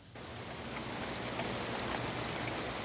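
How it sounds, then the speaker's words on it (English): Rain starts suddenly and then falls steadily as an even, hissing patter, close and continuous, with no voices. "I hate the rain."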